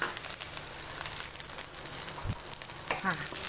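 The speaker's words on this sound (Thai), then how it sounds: "เราจะทอดจนมะเขือม่วงเขา สุกเลยนะคะ แต่ไม่ได้ว่าเอาเละนะคะ" Purple eggplant pieces fry in hot oil, with a steady close sizzle and occasional stirring scrapes and crackles.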